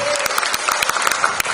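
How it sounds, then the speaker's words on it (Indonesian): Applause from an audience at an Indonesian dialogue event on film and creative industries in Jakarta, a dense burst of clapping throughout with sharp individual claps standing out and a faint murmur of voices. "Ibu boleh tepuk tangan buat sahabat Abi"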